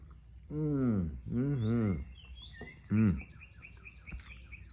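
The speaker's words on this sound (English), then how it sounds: "do you hear those birds singing?" Birds chirp and trill faintly in the background, with a few louder low vocal sounds breaking in between the calls.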